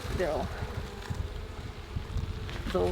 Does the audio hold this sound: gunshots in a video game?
no